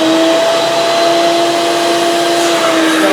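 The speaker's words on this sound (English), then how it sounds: "it's got another feature that it vacuums." A seat cleaning machine vacuums soaked upholstery on re-covered seats, giving a loud, steady, continuous suction roar with a constant motor whine throughout.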